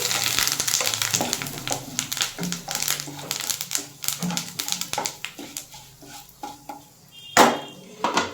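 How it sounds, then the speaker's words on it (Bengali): Asafoetida and curry leaves crackle and sizzle in hot ghee as they are stirred in a pan, with scattered clinks and scrapes of a utensil against metal and one sharper clatter near the end. "একটু হিং দিলাম আর দিয়ে দেব কারি পাতা এটা একটু নেড়ে দিচ্ছি"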